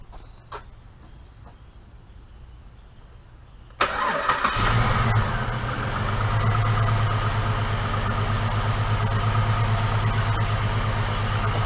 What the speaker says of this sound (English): You'll notice it at an idle, it runs reasonably well. It's got a little shake because of the mist.